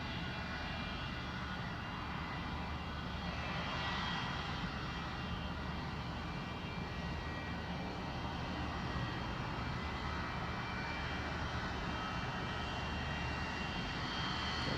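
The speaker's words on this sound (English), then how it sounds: "The oil spill response 727 moving out to display." A Boeing 727 oil spill response aircraft taxiing at the Farnborough International Airshow, its jet engines giving a steady, continuous roar at moderate distance with no breaks.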